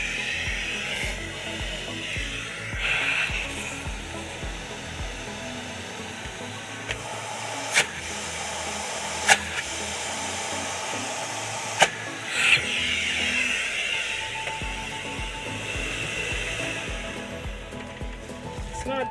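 A Dyson DC65 Ball upright vacuum with a clog runs under suction, a strained airy roar with a few sharp clicks and knocks partway through, fairly close, with no one talking.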